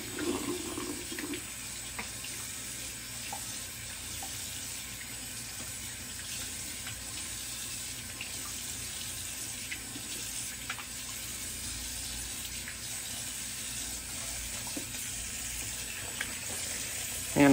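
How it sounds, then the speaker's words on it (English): Cold water runs from a bathroom tap into a sink during post-shave cleanup, a steady close hiss and rush that continues unbroken for the whole stretch, with no talking over it. "Just cold water"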